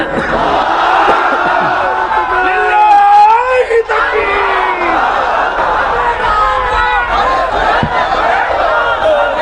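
A large crowd at a Jamaat-e-Islami religious rally in Bangladesh roars a massed takbir response, many voices shouting together loudly and continuously, with cheers and overlapping yells rising and falling throughout.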